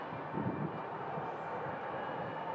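Envoy Embraer 175 jet arriving at an airport, a faint, steady distant engine rumble with a soft low hum throughout, no voices.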